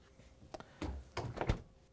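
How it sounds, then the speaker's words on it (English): Samsung refrigerator doors swing shut after the basket is refitted, giving several soft thuds and knocks close by in a quiet kitchen. "Now that you have the basket in, we can close the doors."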